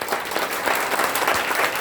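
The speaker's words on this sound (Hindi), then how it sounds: "मैं चाहूंगा इनके लिए जोरदार तालियां" An audience applauds loudly and steadily at a company promotional gathering in India, welcoming two guest speakers; the dense clapping stays continuous and fairly close throughout, with no talking over it.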